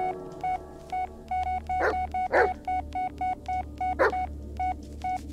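Dog barks in the Blair Witch (2019) video game, three loud bursts ringing out over a repeating electronic phone-menu beep tone and a low steady hum.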